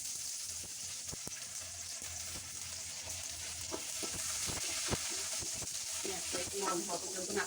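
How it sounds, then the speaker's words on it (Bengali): Whole spices frying in mustard oil for a fish-head murighonto, a steady close sizzle broken by repeated scraping stirs that grow busier toward the end, with no talking. "নরম হওয়া পর্যন্ত নাড়তে থাকছে।"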